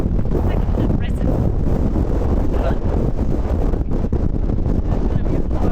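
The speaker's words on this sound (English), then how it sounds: "And now the wind is really strong again, like it's literally pushing." Strong gusty wind battering a microphone on an Iceland road trip during a storm, a heavy, constant low roar with buffeting rumble that never lets up.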